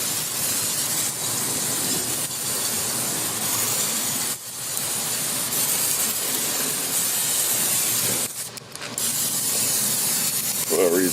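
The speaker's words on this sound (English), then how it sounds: "I probably shouldn't be using this because it's aerosol with fire" An aerosol can sprays onto a griddle set over lump charcoal in a Kamado Big Joe grill, a steady close hiss running through most of the stretch with brief breaks partway.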